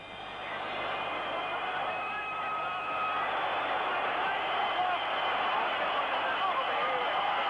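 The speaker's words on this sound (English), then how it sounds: "The crowd is going quite frantic" A football stadium crowd roars frantically near the end of the 1972 European Cup Winners' Cup Final between Rangers FC and Dynamo Moscow, a steady dense wall of cheering and whistling heard from a distance, with a commentator talking over it.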